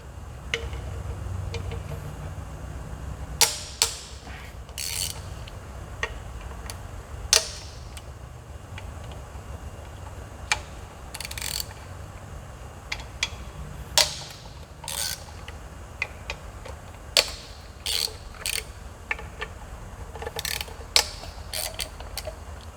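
A ratchet wrench loosens 10 mm bolts on a Nissan 350Z engine, producing scattered sharp clicks and short ratcheting bursts at irregular intervals over a low background hum, close and crisp.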